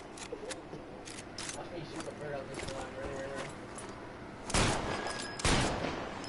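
Gunshots fired at a bird in what is likely a video game: a few scattered sharp pops, then two loud bursts near the end, heard under casual talk and background game sound.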